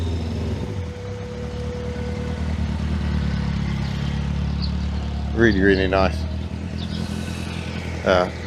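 A Honda S800's small, high-revving engine idles steadily nearby at a classic car show, then rises briefly in pitch a couple of times, while someone speaks over it.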